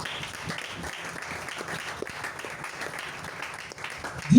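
A church congregation applauding in praise of the Lord, steady dense clapping throughout, swelling louder at the very end, with faint voices mixed in.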